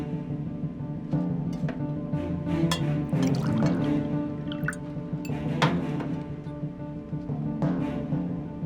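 Water is poured into a cup for someone to drink in a domestic drama scene, a steady close-up trickle lasting several seconds over a low background bed.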